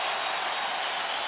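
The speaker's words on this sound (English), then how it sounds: "It's so loud and so long, it caused Shaq to miss a free throw." Sustained roar of a standing crowd in a Los Angeles basketball arena during a 2003 Wizards at Lakers game, as Michael Jordan gets a prolonged ovation for the final time; dense, loud and unbroken cheering and applause with no pauses.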